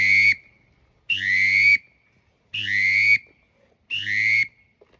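Four drawn-out, soft pintail calls blown on a Leaning Tree duck whistle, each lasting under a second with steady gaps between them, clear and alone.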